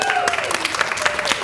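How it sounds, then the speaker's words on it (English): Brief applause from a Shakespeare festival audience at Springfest, quick patters of clapping mixed with a voice and a sliding tone, lasting barely a second and a half. "let's give a round of applause first"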